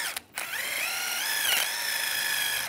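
Wire brush scrubbing rust off a brake caliper bracket on a 2007-2013 Chevy Silverado 1500, a continuous bright rasping scrape running steadily close by after a brief pause at the start, with no talking.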